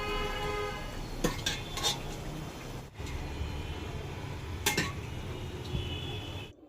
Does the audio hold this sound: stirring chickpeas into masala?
yes